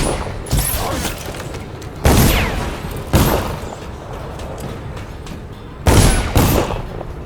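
Gunfire volleys in the video game Dishonored, with several loud booming shots in bursts followed by rumbling tails, close and dominant over game ambience.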